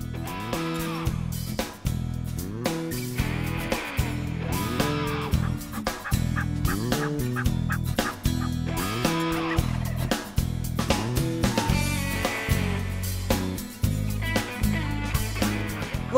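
Wild turkeys in a spring field, a busy run of loud repeated gobbling and honking bird calls in rapid bursts, close and nearly continuous.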